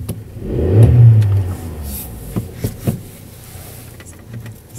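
A 2014 Volkswagen Polo 1.2 TSI 66 kW heard from inside as it pulls away, its engine revving up and easing off, with a few clicks and knocks from the cabin along the way.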